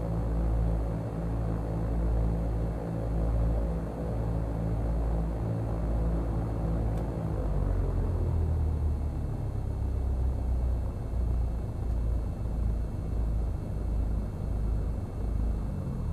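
A simulated Cessna 172 taxis at Glendale Airport in a flight simulator game, its piston engine a steady low droning hum with layered tones that shift pitch partway through, continuous and with no talking.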